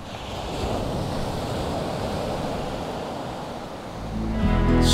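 Sea waves wash steadily onto the shore beside high dunes on a links golf course, a continuous broadband roar with gentle swells, blended with wind buffeting the microphone that grows louder near the end.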